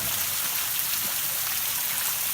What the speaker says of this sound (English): Been coming down in bands like that for days, but been raining like this all day today.